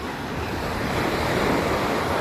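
Rough sea waves at a beach in San Felipe, Zambales, a loud continuous wash of surf close by with wind buffeting the microphone, no voices.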